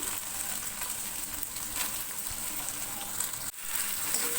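Onions and a bay leaf fry in oil for butter chicken, making an even, moderate sizzle that runs steadily to the end, with one brief dip partway through.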